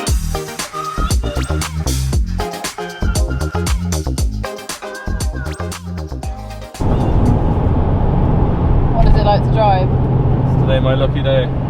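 A Porsche 930 Turbo drives on a road with old-school, slow gear shifts; the first half is talking, then a steady, loud engine drone takes over with brief voices on top.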